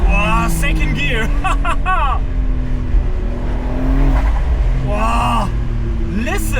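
Porsche 992.2 Cabriolet engine accelerating in second gear on the Großglockner mountain pass, a loud rising engine roar that swells and shifts across several seconds, with someone talking excitedly over it.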